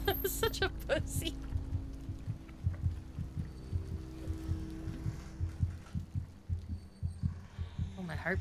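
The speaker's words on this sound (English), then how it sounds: "Oh, my heartbeat's freaking out." A heavy, low heartbeat sound effect thumps steadily in the horror video game Among the Sleep, with a droning hum beneath it and a player talking over it.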